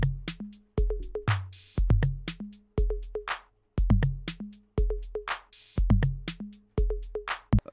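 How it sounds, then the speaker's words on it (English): A programmed drum beat with punchy kicks and snares, each snare followed by a low conga hit, repeats in a tight, loud, steady loop with sharp gaps between hits. "And then I just added a low conga after every snare and it sounds like this."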